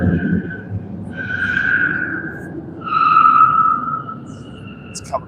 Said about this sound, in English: And you can hear that Dodge Daytona.